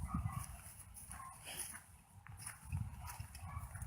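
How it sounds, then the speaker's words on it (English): Dogs bark across the water on a bayou, a few distant, muffled barks rising over low rumbling wind or engine noise outdoors. "Dogs barking across the water."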